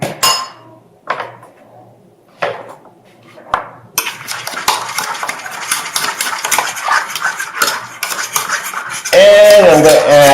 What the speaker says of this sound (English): I'm going to mix it up real good.